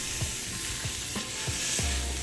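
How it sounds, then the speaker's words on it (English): Ground meat and onions sizzle loudly on a hot flat-top for a chopped cheese sandwich, with a steady broadband crackle and several soft scraping pushes as the meat is smashed down. "Let's get this meat on the heat, baby."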